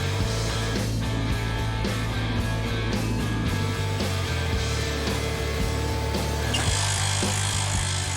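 A drill rig boring into rock with steel drill rods, working five meters deep to set a slope support on a four-legged excavator site; a steady, loud mechanical grinding drone runs continuously with rhythmic knocking throughout.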